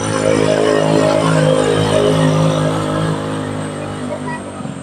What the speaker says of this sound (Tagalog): Hirap na hirap umakyat ang motor.